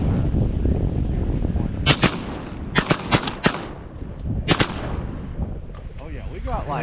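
Shotgun blasts during a New Year's Day duck hunt: several sharp, loud shots in two quick clusters, with hunters' voices murmuring before and after.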